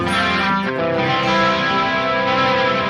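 A distorted crunch guitar chord on channel 1 of a Sonicake Matribox 2 Pro multi-effects unit rings out, held and sustaining with a slight chorus-like shimmer.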